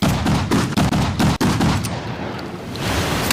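A rapid burst of loud gunshots from a weapon in Resident Evil 7, firing in fast repeated bursts with short pauses, close and harsh.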